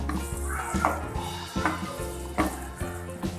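Garlic and ginger roast in a pan over medium gas, giving a soft sizzle broken by repeated stirring scrapes and knocks against the pan at a steady pace.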